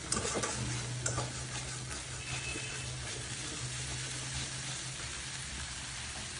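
Spice paste fries in oil in a pan, giving a steady, continuous sizzle and crackle throughout, moderately close, with no talking.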